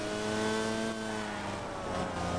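A street kart engine revs hard around a race track at Wackersdorf, its high buzzing note holding steady and close before dipping and climbing again as the kart runs wide through a corner.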